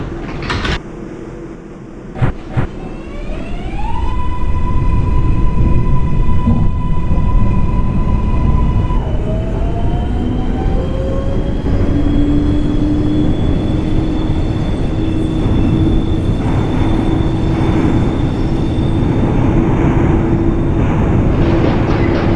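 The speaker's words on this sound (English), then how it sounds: "Is a Bronx-bound 4 express train" A New York City IRT Lexington Avenue 4 express subway train, Bronx-bound, rolls loud and close: doors thud shut with chime tones, then a rising motor whine and steady rumbling wheel noise as it accelerates and runs.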